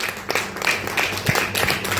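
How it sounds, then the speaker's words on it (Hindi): Audience applause for the MD at an organisation's gathering, a dense steady patter of many hands filling the whole stretch at moderate level, with faint voices underneath. "एक जोरदार तालियां होनी चाहिए एमडी सर के लिए"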